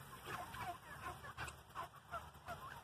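Turkeys gobble and cluck at close range, and their short warbling calls repeat every half second or so over a steady background murmur.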